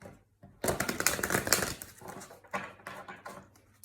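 A brisk flutter of tarot cards being shuffled, a dense papery riffle followed by a few shorter snaps and taps, close by.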